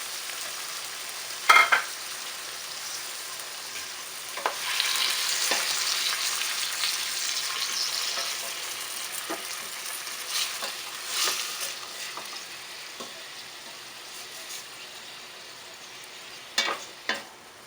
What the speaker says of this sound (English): Let's put the beef marinated with soy sauce and lemon